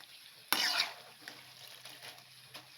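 Alasande snacks frying in hot oil, with a sudden loud sizzle as batter hits the pan, then a steady softer bubbling hiss with faint stirring clinks.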